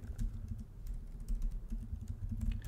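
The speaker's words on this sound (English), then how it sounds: "You can type in woodworking right here." Soft, steady clicking of keys on a computer keyboard as a search is typed, quiet and continuous over a low background hum.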